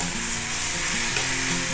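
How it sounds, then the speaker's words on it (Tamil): Tomatoes sautéing in a pan, a dense, steady sizzle heard up close without interruption. "தக்காளி கொஞ்சம் வதங்கட்டும்"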